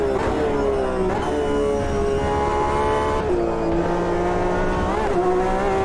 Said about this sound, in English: this really high revving version of the 911 engine is just in a different league compared to all the others in terms of sounds